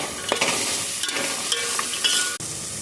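Paneer sizzles and fries in a pan as a spoon stirs it with scraping strokes, spiced with turmeric, salt and garam masala before rice goes in; steady close hiss with intermittent clatter and no talking.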